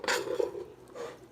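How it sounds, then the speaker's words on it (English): A utensil stirs chicken spaghetti in a pot, giving two short scraping and clinking strokes against the metal. The sounds are close and moderately quiet, with no talking. "I'm just going to start stirring it"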